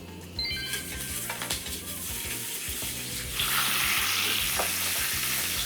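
Pork slices hit hot vegetable oil in a pan and fry with a steady, close sizzle that swells louder partway through, with light stirring and utensil sounds and no talking.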